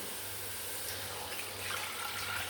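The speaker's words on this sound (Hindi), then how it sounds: "अब इसमें पानी डालेंगे, 2 मिनट बाद उबाल आ जाएगा" Water pours steadily into a cooking pot of fried masala, a continuous close splashing rush with a low hum beneath and no voices.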